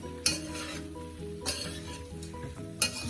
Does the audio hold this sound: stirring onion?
yes